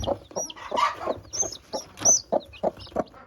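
Chickens cluck busily and continuously close by in a coop with newly hatched chicks, a dense flurry of short clucks and squawks with no talking.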